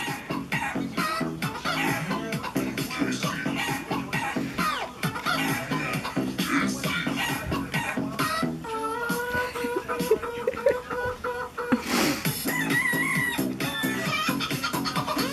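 Chicken clucks and rooster-like calls are mixed into a loud techno dance track, carrying on steadily over the driving beat for the whole stretch.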